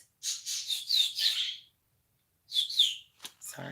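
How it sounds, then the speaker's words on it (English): Bright, high-pitched bird chirps in quick bursts, a run of calls followed by a pause and then another short flurry, fairly close and clear. "Birds."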